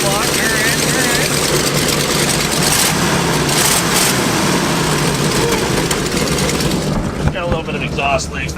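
A big-block engine in an abandoned camper idles loudly and roughly with exhaust leaks, a harsh continuous rumble up close, while several people talk over it.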